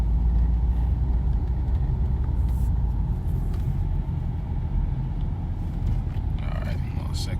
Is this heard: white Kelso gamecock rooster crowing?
no